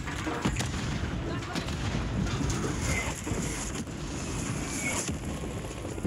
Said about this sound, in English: Enemy mortar strike on the way.